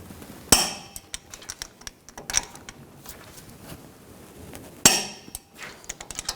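A torque wrench tightening bolts to 148 foot-pounds on a 2014-2018 GMC Sierra 1500 parking brake job, with two crisp metallic clicks spaced apart among softer clinks and tool handling.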